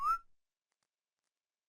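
A short, rising whistle in the video game The Whitakers Library, a single clear tone lasting a fraction of a second and followed by silence.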